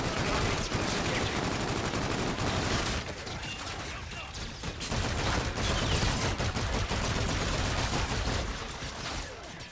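Heavy automatic gunfire rattles almost nonstop in a Call of Duty: Infinite Warfare firefight, with dense overlapping bursts that are loud and close and briefly thin out near the middle before surging again.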